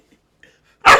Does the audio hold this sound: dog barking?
yes